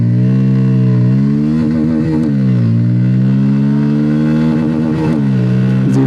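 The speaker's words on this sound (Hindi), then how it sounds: "और चलिए फ्रेंड्स, एक्सेलरेशन टेस्ट भी शुरू करते हैं। फर्स्ट गियर पे डाल दिया है," A motorcycle pulls away hard from first gear in an acceleration run, its loud, close engine note climbing steadily with brief dips at the gear changes. No voices are heard.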